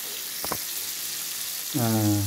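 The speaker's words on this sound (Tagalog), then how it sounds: "Nilagay sa mantika, bawang, sibuyas, saka yung" Garlic and onion hit hot oil with a sudden loud sizzle after a quiet moment and a brief clink, the frying crackle swelling and continuing up close.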